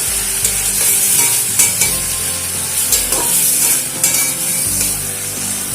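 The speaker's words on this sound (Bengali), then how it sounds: "এবারে একটু কষিয়ে নেব।" Jackfruit seeds being stir-fried in a pan with mustard and chili paste, turmeric and salt, a loud steady sizzle broken by repeated scraping and stirring strokes of a utensil against the pan.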